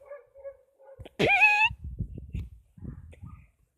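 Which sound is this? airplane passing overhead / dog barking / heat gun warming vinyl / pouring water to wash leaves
dog barking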